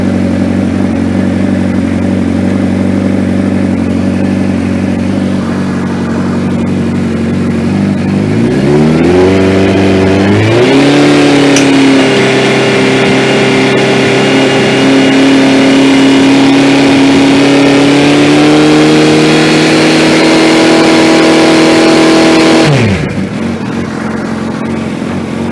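Suzuki GSX 1300R Hayabusa motorcycle engine idling close by, then revving up and holding a higher steady pitch for over ten seconds before dropping sharply back to idle.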